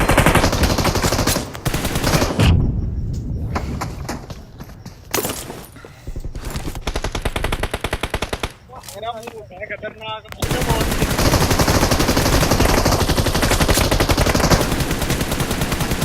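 Automatic and single gunfire from PUBG Mobile comes in loud, dense bursts and rapid volleys with brief gaps, close and sharp throughout the match.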